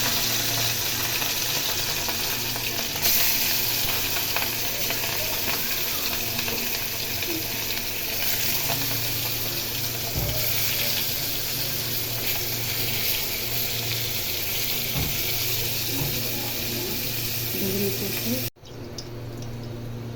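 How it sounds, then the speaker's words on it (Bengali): Spice-coated rohu fish fries in hot oil, making a loud, continuous close-up hiss and crackle that cuts off abruptly near the end. "আমি মশলা মাখা মাছটা এখন ভেজে নেব"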